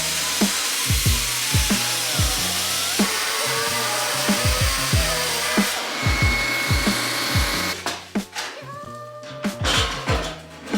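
An angle grinder grinds down car body metal, with a continuous abrasive hiss and whine pulsing in regular back-and-forth strokes, close and loud, growing more broken and uneven near the end.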